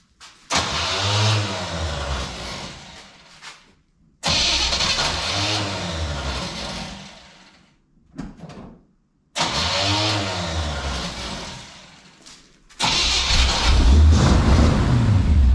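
A 1982 Chevy K10 pickup is cranked in several loud, close bursts separated by short pauses, its starter churning rhythmically before the engine catches and roars at higher revs at the end.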